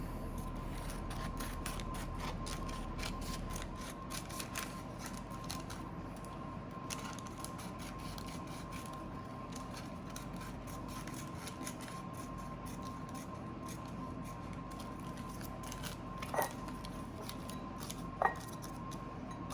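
Scissors snip steadily at close range through pasteles wrapping during home preparation, with a couple of sharper clipped cuts near the end over a constant background hum.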